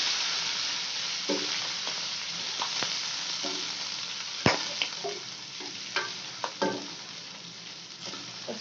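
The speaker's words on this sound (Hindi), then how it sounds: "चिकन हम अपनी ऐड करेंगे इसमें और फिर इसको अच्छे से मिक्स कर लेंगे।" Chicken and garam masala with ginger are stirred in a hot frying pot, giving a steady sizzle with scattered scraping and clinking strokes from the spoon, one sharper knock partway through.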